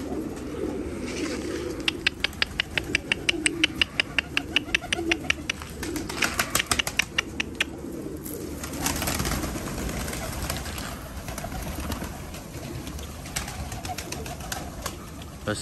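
Shatri breed pigeons coo at a bird market, with repeated soft coos and flutters close by and a brief burst of rapid wingbeats partway through.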